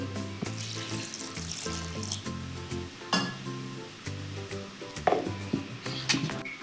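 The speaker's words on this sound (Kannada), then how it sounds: "ನೀರು ಹಾಕಬೇಕು" Water splashes into a pot of egg sambar with turmeric over sizzling, with clinks and stirring knocks scattered throughout; no one speaks.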